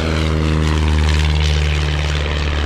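A light propeller aircraft fitted with skis takes off, its engine a loud, close, steady drone with a strong low hum and a broad roar, heard alone without voices.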